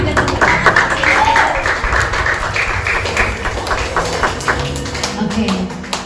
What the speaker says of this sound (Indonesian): Tepuk tangannya jangan ragu-ragu, berikan tepuk tangan.